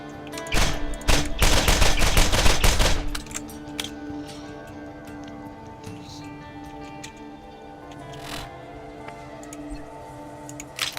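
A machine pistol firing in the video game Borderlands, a dense rapid burst of shots lasting a few seconds, loud and close, followed by quieter isolated clicks and a single later shot over a low ambient hum.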